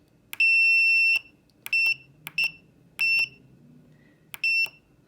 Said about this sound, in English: when I press the button, the sound turns on